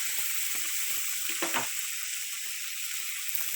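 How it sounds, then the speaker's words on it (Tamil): Chopped onions and tomatoes sizzle and fry in a hot pan for a Tamil amaranth-leaf kadayal, with a bright steady crackle and a brief stirring scrape midway, close up. "இப்போ இதை ரெண்டுத்தையும் சேர்த்து நல்லா வந்து வதக்க விடணும்"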